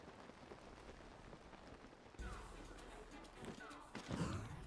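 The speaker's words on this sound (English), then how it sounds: "Oh, it's raining." Steady rainfall in the video game Tears of the Kingdom, a constant soft hiss of drops on the ground with a few thuds and muffled crashes in the last seconds.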